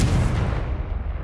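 A Confringo blasting spell bursts in the Hogwarts Legacy game, a single loud, deep boom that rumbles low and fades away over about a second.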